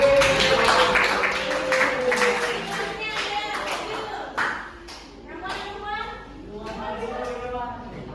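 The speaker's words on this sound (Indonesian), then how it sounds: "Tepuk tangan untuk Ridwan." Students in a mathematics classroom clap for a classmate, a short burst of hand claps mixed with children's chatter and voices throughout.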